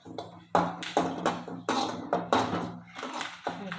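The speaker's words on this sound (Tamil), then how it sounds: "இந்த மாதிரி கருவேப்பிலையும் வரமிளகாயும் லைட்டாக நான் வறுத்து" Curry leaves and dried red chillies being lightly dry-roasted in a pan for rasam, heard as a close run of repeated metallic taps and scrapes of a spoon against the pan, in a quiet kitchen with no talk.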